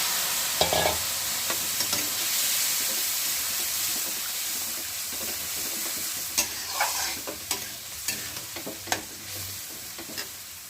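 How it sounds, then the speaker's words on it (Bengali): Drumstick pieces and spices fry and get stirred for a katla fish curry, producing a continuous broad sizzling hiss with repeated scraping and clinking strokes of the spatula in the second half, with no talking. "এবার আমি সজনে ডাঁটাটা দিয়ে দেবো তার সাথে মশলাটা দিয়ে কষিয়ে নেব"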